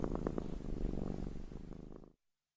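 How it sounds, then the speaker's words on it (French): A small kitten purrs softly and steadily in close, a gentle pulsing rumble that continues for about two seconds before stopping abruptly. "Un doux ronronnement la réveilla."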